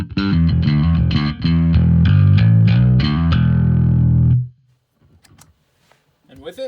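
Electric guitar through a Boss distortion pedal with no preamp, loud fuzzy chords strummed for about four seconds then cut off abruptly into near silence with faint handling noise.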